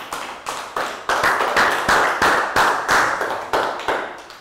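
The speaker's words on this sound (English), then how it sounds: "High five and a big round of applause for Nadia." Classroom applause from a group of young students in a Year 3 math lesson, a burst of rhythmic, fairly close claps that runs steadily for several seconds with no talk.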